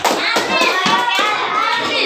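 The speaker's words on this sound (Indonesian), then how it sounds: "tepuk tangan untuk kelompok satu" Classroom applause for a student group: a short burst of rapid hand clapping from many children indoors, loud and close, with some children's voices mixed in.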